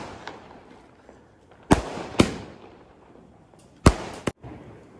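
Diwali firecrackers burst in four sharp, loud bangs, two close together early and two more later, each ringing out over quiet outdoor background.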